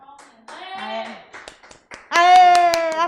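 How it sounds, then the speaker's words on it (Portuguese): In a civil procedure law class, a few sharp, scattered hand claps cut through a speaking voice and rise to a brief louder burst partway through. "aplausos, quero mais aplausos."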